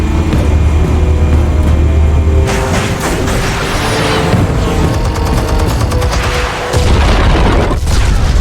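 Loud, booming explosions of armed charges in Batman: The Telltale Series, a sustained roar of blasts and rumbling debris with crackling bursts, close and dominant throughout.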